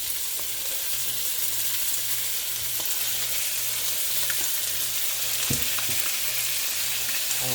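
Swai fish fillets frying in olive oil in a pan, a continuous close sizzle and crackle with occasional stirring or scraping, and no voices.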